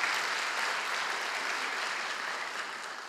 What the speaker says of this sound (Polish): Brawa, oklaski.